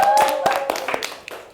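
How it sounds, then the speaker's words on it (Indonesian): Short burst of clapping from a small group applauding students' products in a classroom session, fading quickly with a voice and a few last claps trailing off. "tepuk tangan dulu."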